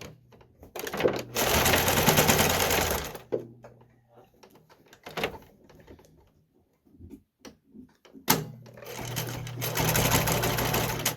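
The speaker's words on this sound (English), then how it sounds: "I want to sew it a little more on this back edge, so I'm just going to reverse it on the back edge" A sewing machine reverse-stitches along the back edge of a homemade doggy costume, with two loud whirring bursts of stitching separated by a quieter stretch of ticks and clicks.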